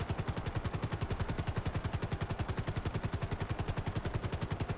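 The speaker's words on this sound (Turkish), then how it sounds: "Aman helikopter de üstümüze düşmesin. Geliyor vallahi sesini duyuyorum." A video game helicopter's rotor thumps in a fast, steady rhythm, loud and continuous as though passing close overhead, in GTA 5.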